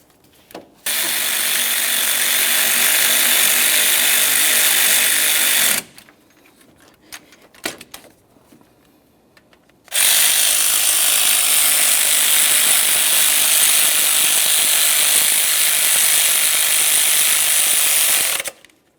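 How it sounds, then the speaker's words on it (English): Ratchet wrench tightening front engine mount bolts on a 1994–1997 Honda Accord, two long loud runs of rapid clicking with a quieter gap of handling noise between them. "Once you have each of these mounting bolts started in, you can snug them up and torque each of these to 28 foot-pounds as well."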